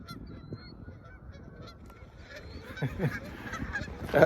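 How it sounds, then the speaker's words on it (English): Geese honk in a noisy flock scattered by a dog, calls building and growing louder toward the end over rustling outdoor background. "He's just scared all the geese."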